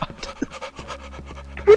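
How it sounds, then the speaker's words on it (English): A monster in the horror video game Cry of Fear breathes in fast, rhythmic pants, close and distinct, with short bursts of other game noise around it. "Stop breathing super fast! Why is it breathing?"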